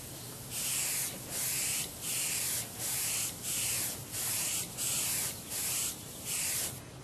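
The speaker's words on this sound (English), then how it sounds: "now we're going to shoot some yellow and see how many coats it's going to take" Yellow paint being sprayed onto the tail numbers of a P-47 model, about nine evenly spaced bursts of close airbrush hiss, each lasting roughly half a second, separated by short quiet gaps, with no talk.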